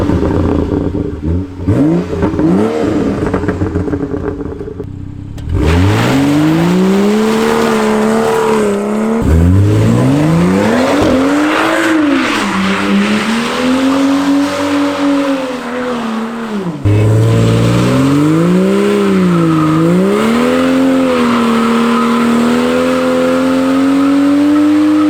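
Close, loud BMW F30 335i engine revving repeatedly, pitch climbing and dropping in long sweeps with a steady rumbling idle between pushes of the throttle.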